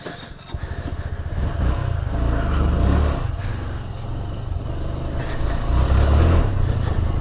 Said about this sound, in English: Bringing out the old Grom.